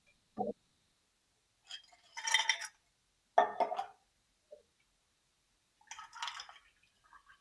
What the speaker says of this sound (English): I'm going to put some ice in my glass